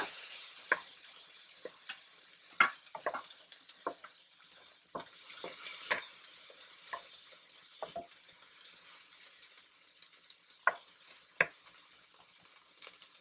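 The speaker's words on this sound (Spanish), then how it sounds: "Después de un minuto más, agrego el jitomate, ya para que suelte todo su jugo." Tomato frying with green beans in a pan makes a soft, steady sizzle, broken by sharp scrapes and clicks of a utensil stirring against the pan at uneven intervals.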